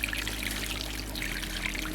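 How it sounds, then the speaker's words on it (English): Garden hose water spraying onto a small turbine built from a car AC fan, a steady loud rushing splash throughout with no voices. "I turned a hose of water towards the turbine and it spins with ease."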